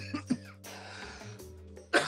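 A couple of short throat-clearing coughs after smoking cannabis, then a quiet pause, ending with a sharper single cough up close.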